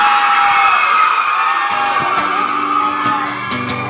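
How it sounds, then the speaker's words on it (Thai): A student crowd at a Freshy Boy & Girl contest at Uttaradit Rajabhat University cheers loudly for a performance, with whoops and shouts that run continuously and thin slightly toward the end. "ขอเสียงปรบมือให้กับการแสดงฟลกซอง"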